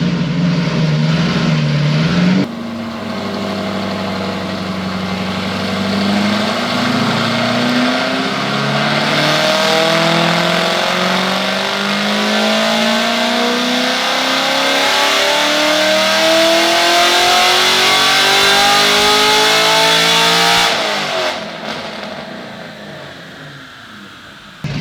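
Chevrolet LT1 V8 on a dyno pull, roaring loud and close as it climbs steadily in pitch through the revs, then drops off abruptly when the throttle closes.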